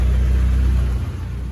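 A Peugeot 406 engine with a leaking-compression starting fault runs steadily during a test, a loud, close, continuous low rumble with a faint mechanical whir and no voices.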